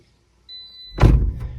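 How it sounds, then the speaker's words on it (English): A Toyota RAV4 car door swings shut with a single solid, close thunk and a brief rattling settle, preceded by a faint high electronic tone. "Close the door."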